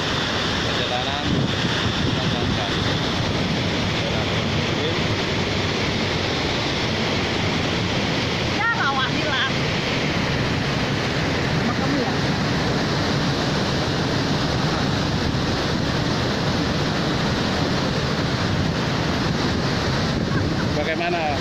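Waterfall at Riam Panggar in Sanggau Ledo, Bengkayang, a loud, continuous roar of rushing water that fills the whole stretch, with wind buffeting the microphone and brief voices partway through.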